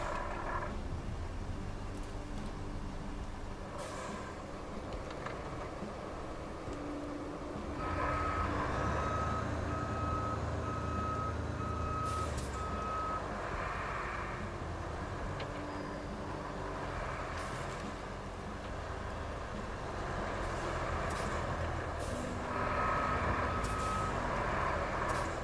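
In the Roadcraft video game, a heavy truck rumbles and idles while reversing beeps sound in a steady intermittent series, with brief hisses like air brakes, close and continuous with no talk.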